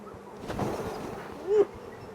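Honey bees drone steadily around an open beehive during a beekeeping inspection, a close continuous buzz with one bee swelling louder as it passes near.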